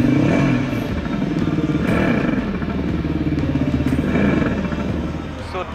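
Revolt RV400 electric motorcycle playing a synthesized engine sound, a loud mechanical-style burble that rises and falls in pitch in a couple of rev-like swells.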